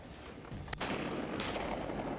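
A 20 gauge shotgun fires once during a duck hunt: a single sharp, loud blast near the start, then a broad lingering roar of echo and outdoor noise.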